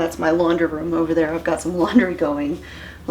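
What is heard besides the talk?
No everyday noises stand out.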